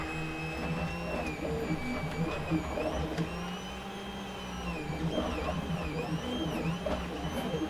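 A Recreator 3D printer running, its stepper motors whining and warbling in shifting, robotic-sounding tones over a steady mechanical hum, moderately quiet and continuous throughout.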